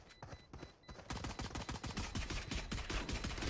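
Rapid automatic gunfire from the Valorant video game, with overlapping rounds that grow into a steady, dense fusillade. The shots are fairly quiet and sit over faint high electronic tones, with no talking.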